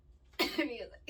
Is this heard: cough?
yes